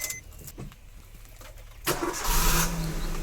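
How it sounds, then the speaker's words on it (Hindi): A car engine started after sitting unused for two or three days, then left to idle and warm up: a few clicks and a brief crank before the engine catches midway and roars into a steady, loud, close idle. "मैं अपनी गाड़ी को गर्म कर लेता हूं, क्योंकि 2-3 दिन हो गए हैं इसको स्टार्ट किए।"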